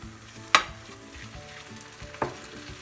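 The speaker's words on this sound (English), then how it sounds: "These onions, I have sauteed them for 2 to 3 minutes on slow flame. Now I'm going to add tomatoes." Onions sautéing in a pan after slow cooking, with a soft steady sizzle broken by two sharp utensil clinks against the pan, close by.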